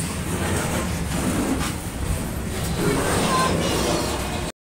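The 13031 Howrah Jayanagar Express gets under way after a long halt, with a steady, loud rolling rumble and rattle of the carriages heard from on board throughout.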